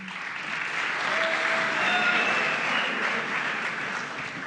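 Auditorium audience at a 2019 Belen Jesuit student council debate welcoming vice-presidential candidates with steady applause, a dense crowd of clapping hands that swells slightly in the middle and carries on throughout, with no talk over it.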